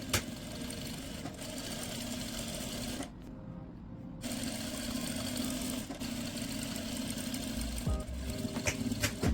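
A domestic sewing machine runs steady stitches along the folded waistband casing of a fabric salwar, a soft continuous whirring that pauses briefly partway through and then resumes, fairly quiet.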